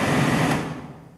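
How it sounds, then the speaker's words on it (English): The heater blower motor in an SR20-swapped Nissan Sentra whirs with a steady airy hum that quickly fades away over about a second, close by and without speech. "this one is the heater blower motor"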